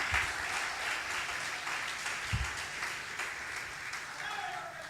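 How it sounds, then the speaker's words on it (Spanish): Congregation in a church service claps loudly and steadily for several seconds, a broad crowd applause with faint voices mixed underneath. "Dele un aplauso fuerte."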